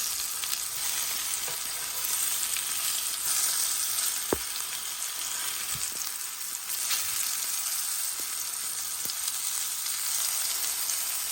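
Rounded beef pieces brown in a cast iron pan, giving a steady, close, loud sizzle with a few sharp ticks and pops scattered through.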